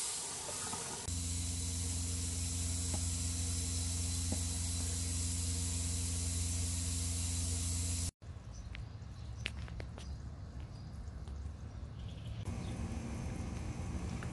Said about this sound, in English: We're draining the freshwater tank underneath.